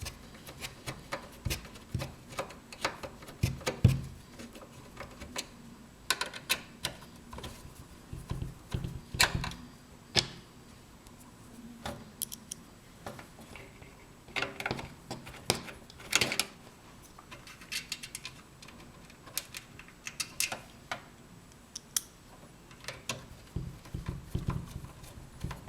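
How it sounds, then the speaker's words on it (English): Screws are driven into a PC case while a Thermaltake 850M power supply goes into an Asus M32, heard as scattered close clicks, taps and metallic knocks in an irregular rhythm across the clip, with no talking. "always hate putting these screws in."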